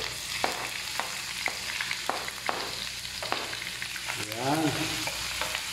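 Garlic and ginger sizzle steadily in hot oil for a squid curry, with a spatula clacking against the pan at regular intervals and a brief spoken word near the end.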